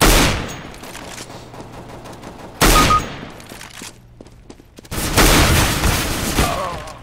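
Gunfire in Counter-Strike: Global Offensive comes in sharp loud bursts, several rapid shots, a lull with scattered faint pops, then more heavy firing, with a sniper scope rifle in play.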